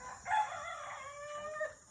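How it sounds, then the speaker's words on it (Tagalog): A red junglefowl rooster crows once, a rising then drawn-out cock-a-doodle call lasting under two seconds, heard alone at moderate distance. "May labuyo yung tumitilawak mga pare."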